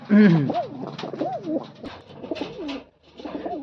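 Close, repeated cooing of a female pigeon, a series of rolling throaty coos with brief pauses between phrases.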